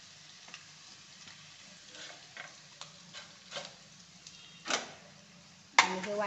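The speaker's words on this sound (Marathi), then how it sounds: "आणि हे वाटण ना आता आपण तेलात ना बारीक गॅसवर 1-2 मिनिट चांगलं परतून देऊ" Ground sesame, coconut and coriander paste sautés in oil over a low gas flame. A soft, faint sizzle runs under scattered stirring scrapes, and a sharper clatter comes near the end.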